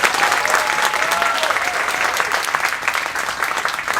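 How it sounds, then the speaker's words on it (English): Applause for the crew aboard the Majestic Princess cruise ship, with a crowd clapping loudly and steadily throughout and a few voices faintly audible beneath it. "So give a round of applause to the"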